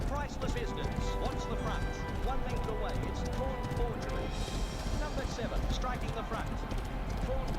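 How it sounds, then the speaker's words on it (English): Horse hooves gallop in a clip-clop rhythm during a race in the video game Rival Stars Horse Racing, a steady busy drumming that runs the whole time beneath a person's talk. "let's make our move because we have one horse running up on us pretty quick"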